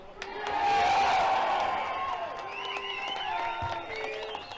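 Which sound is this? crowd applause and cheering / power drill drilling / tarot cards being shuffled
crowd applause and cheering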